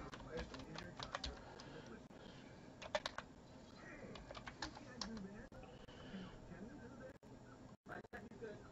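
Typing on a computer keyboard: bursts of quick clicking keystrokes, close and moderately loud, interrupted by pauses, with someone talking over it.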